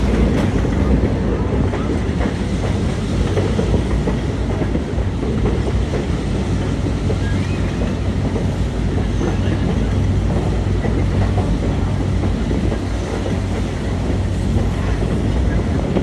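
A train rumbles and rattles steadily as it crosses Highway 9 near Rincon, a loud, continuous clatter mixed with wind buffeting the microphone.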